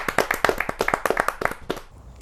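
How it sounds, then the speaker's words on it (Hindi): Audience claps for a poet being welcomed to the stage at a Hindi kavi sammelan, a burst of crisp, fairly close clapping that thins out and fades toward the end. "जोरदार तालियां आपको मिले"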